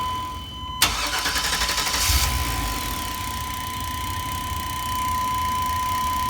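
A retimed Chevy/GMC engine cranks and catches in about a second, then settles into a steady, smooth idle that runs on evenly, close and moderately loud.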